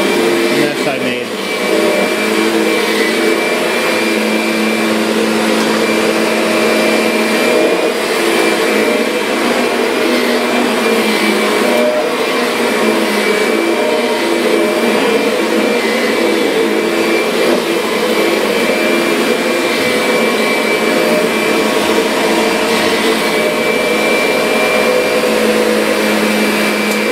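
A Kirby Sentria vacuum cleaner runs without pause as a loud, steady motor whine with a constant high tone, close by and unchanging for the whole stretch.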